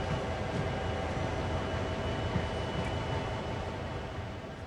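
A heavy CSX freight train coasts along in Train Sim World 2020, giving a quiet, steady rumble of rolling wheels and wagons with faint rail noise and no other sounds.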